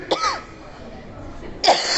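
Two short, sharp coughs a little over a second apart, close and fairly loud, with a quiet pause between them.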